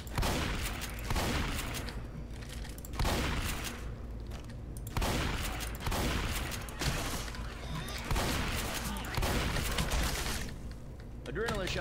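Shotgun blasts in the Left 4 Dead 2 video game, a steady series of loud, booming shots about one per second continuing for several seconds with faint game noise between.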